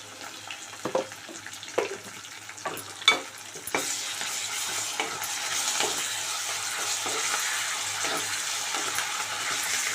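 Okra fries in a pan with ginger garlic paste. A few scattered clinks of stirring come first, then a steady, continuous sizzle fills the rest, with no voices.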